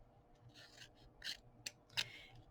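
Scissors snip through thin metal foil repair tape in a few faint, quick crisp cuts and rustles, close by in a quiet room, with a sharp metallic snip near the end.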